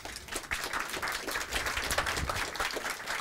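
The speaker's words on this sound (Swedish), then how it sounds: "Jag tycker vi kör en applåd." An audience at a school-standards talk claps in a continuous, fairly faint round of applause lasting a few seconds, with no voices over it.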